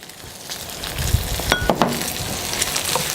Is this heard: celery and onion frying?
yes